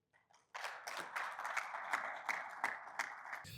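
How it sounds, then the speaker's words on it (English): An audience breaks into applause at a corporate presentation, starting after a short pause and holding as a steady, fairly soft wash of many hands clapping at a distance. "another round of applause for Vuyo"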